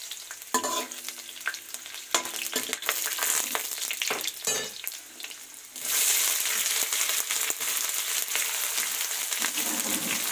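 Garlic and onion fry in a pan with steady close sizzling, broken by clinks and scraping stirs, and the sizzle grows louder and denser partway through.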